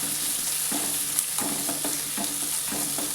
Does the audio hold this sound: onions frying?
yes